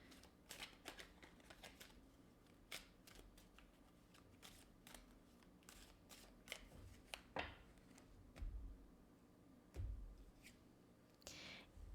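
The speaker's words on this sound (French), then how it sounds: "Je vais prendre 4 cartes de Romance Angels aujourd'hui." Romance Angels oracle cards being shuffled, heard as a run of quiet, dry riffling and flicking bursts scattered irregularly through a hushed room, with no talking.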